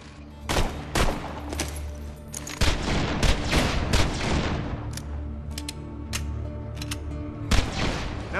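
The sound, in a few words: gunfire from a fire elemental weapon in the video game Borderlands 2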